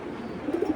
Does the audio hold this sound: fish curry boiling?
no